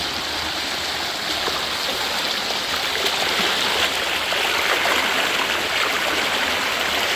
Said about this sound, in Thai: น้ำตกบ้านนอกนะ